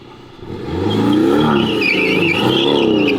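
A Porsche 718 accelerates hard while drifting. The engine roar climbs quickly and holds loud and close, with a rough, strained tone throughout.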